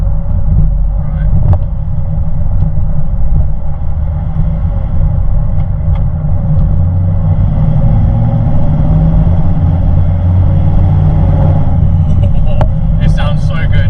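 An Audi R8 V8 with a manual gearbox and no exhaust fitted pulls away in second gear, its loud, raw engine rumble continuous and close throughout, building toward the end, with speech over it.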